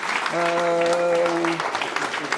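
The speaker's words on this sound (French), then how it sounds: "Donc applaudissez-les, parce qu'ils ont mis les chaises, les tables." An audience at a reading event in Neuville-sur-Saône claps for the association La Mana, a dense burst of applause with a sustained voice heard briefly over it.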